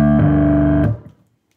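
Boss ME-6B bass multi-effects processor on its distortion 2 setting: a thick, buzzing distorted bass note sustains loudly alone for nearly a second, shifts pitch once, then is cut off and fades quickly.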